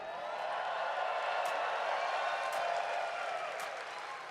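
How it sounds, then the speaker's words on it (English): A packed arena crowd at an esports tournament applauds and cheers for the winning team, a continuous broad roar of clapping that stays loud and even throughout. "Vancouver, please a round of applause for the victorious FlyQuest!"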